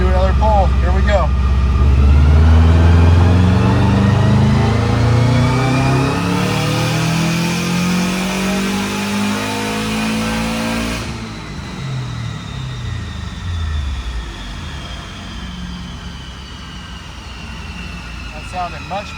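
A car engine on a dyno revs through a full pull, its roar climbing steadily in pitch, then dropping back and settling into a lower rumble, loud and close throughout.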